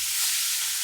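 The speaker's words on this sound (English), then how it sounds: "The sound of tilapia frying." Tilapia frying in hot oil, a steady loud hiss and crackle of sizzling that carries on without a break, close by, with no talk.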